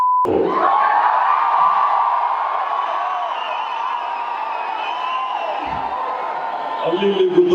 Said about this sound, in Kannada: ಚಪ್ಪಾಳೆ ಹೊಡೆಸೋಣ.